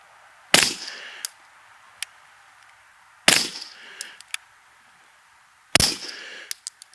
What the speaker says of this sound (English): So we're just going to go ahead and shoot 5 shots.